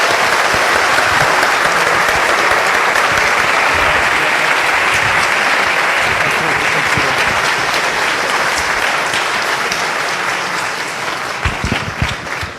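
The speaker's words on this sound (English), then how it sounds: "Please give our speaker a final round of applause." A large conference audience at FOSDEM in Brussels applauds a speaker at the close of a talk, a loud, dense, sustained round of clapping that holds steady and then begins to thin out toward the end.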